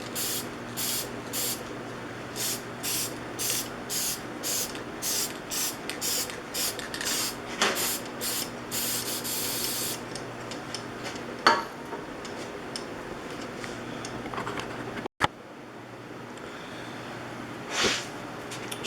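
Lacquer finish sprayed onto a wood-lathe turned flower comes as a run of short, even aerosol bursts, close and fairly loud, followed by scattered handling noises and a few faint clicks.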